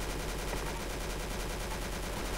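Rapid automatic gunfire in the Arsenal video game, a dense continuous burst of shots filling the whole moment at steady loudness, with no talking.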